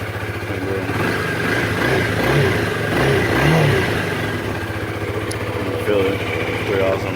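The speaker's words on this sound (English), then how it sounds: "The engine, not bad. Sounds not bad." Honda Rebel 300 motorcycle, a 2018 beginner cruiser, with its engine running steadily and rising in a couple of brief revs, close by and fairly loud, with a voice speaking over it.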